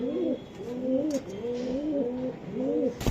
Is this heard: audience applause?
no